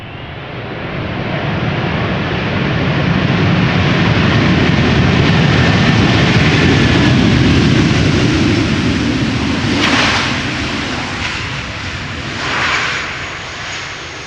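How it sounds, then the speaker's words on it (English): A Delta Air Lines Airbus A330-300 arriving from Atlanta at Amsterdam Schiphol thunders overhead. A loud, low jet roar builds, peaks midway, and then tapers off, with no speech. "this is Delta Airlines flight 74 arriving from Atlanta, Georgia. It's an Airbus A330-300"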